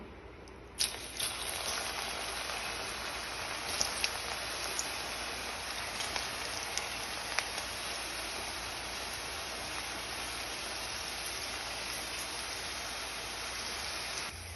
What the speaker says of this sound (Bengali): এবার এখানে একটা কড়াই গরম করে আমি এইগুলো ভেজে তুলে নেব।